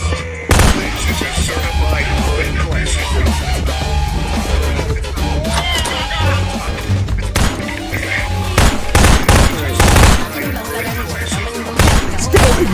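Gunfire in a Garry's Mod Prop Hunt match, repeated shots and bursts in a busy, loud game mix with players talking over them throughout.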